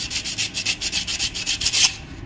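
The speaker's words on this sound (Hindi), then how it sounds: "ये जो देखिए रेगमाल का टुकड़ा है, ये रेगमाल है, इसको इसकी कन्नी को गोल करना है बिल्कुल ऐसे" A piece of sandpaper is rubbed rhythmically back and forth to round the edge of a sewing machine part during repair, making steady, close, raspy strokes at a quick even pace.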